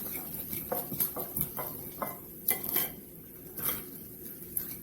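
A knife cuts crispy waffle-iron grilled cheese into squares, giving a string of light crunches, scrapes and taps against a plate at a quiet, close level.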